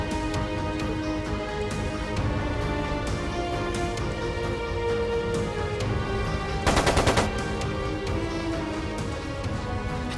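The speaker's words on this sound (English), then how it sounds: "It sounded like a machine gun." A short rapid burst of machine gun fire rattles out in the Trails of Cold Steel 2 video game, cutting in loudly over a steady bed of game music and ambience.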